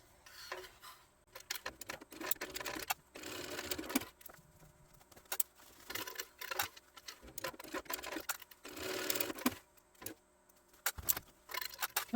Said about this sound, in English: we're just going to, as I said, sew on that line